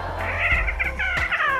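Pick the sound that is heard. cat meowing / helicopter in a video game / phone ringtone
cat meowing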